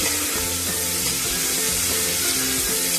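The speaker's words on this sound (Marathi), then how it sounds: "ते वाटाणे पण परतून घ्यायचे." Green peas sautéing in hot oil in a pan for masala rice, a continuous close sizzle and crackle with faint stirring scrapes, no voices.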